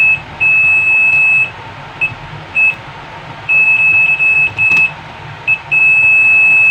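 An overload relay tester sounds a high electronic buzzer tone in repeated bursts of uneven length, some long and some short, switching on and off over a low background hum.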